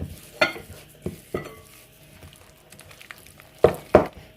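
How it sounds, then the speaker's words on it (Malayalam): A hand stirs a thick masala batter for street-style masala kadala, making a few soft, wet squelching strokes in a bowl, spaced irregularly and heard up close with no talking. "കൈ കൊണ്ട് ഇളക്കാൻ പോവുകയാണേ"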